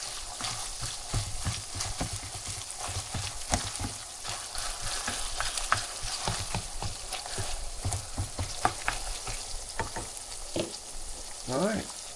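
Ground beef browning in a pan while being broken up, a steady close sizzle punctuated by repeated knocks and scrapes of a spatula against the pan.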